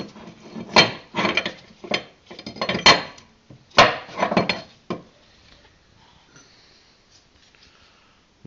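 Water pump being worked loose and lifted out of a Ford Transit Connect TDDi/TDCi engine: a few close, sharp metallic clanks and scrapes in short bursts, then quiet.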